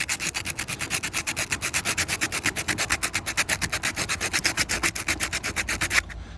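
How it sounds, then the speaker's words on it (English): The metal top of a Porsche windshield wiper motor is sanded by hand in quick back-and-forth strokes, a loud, regular scratchy rasp repeating about five times per second before stopping abruptly near the end. "this whole top part, this is just metal, so you can sand this. So I'm gonna smooth this out right now."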